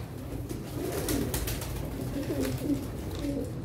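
Close, soft cooing of pigeons kept in a loft, with repeated low throaty coos over a light background.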